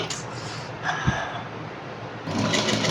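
A sewing machine stitches a three-in-one coat-style dress, a steady close whirring hum that quickens and grows louder near the end.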